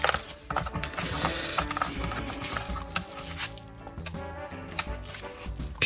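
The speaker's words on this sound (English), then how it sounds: "Take these screws out of here." Small screws being backed out of a mid-2015 MacBook Pro Retina laptop with a driver, close, busy ticking and ratcheting clicks with light scraping, continuous and fairly loud.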